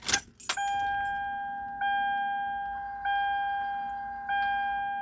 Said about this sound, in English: We'll go ahead and turn the ignition on to make sure everything is working.